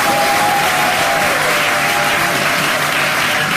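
A church congregation at a prayer gathering in Lyon applauds and cheers loudly and steadily, a dense wash of clapping with a faint sung or shouted tone running through it.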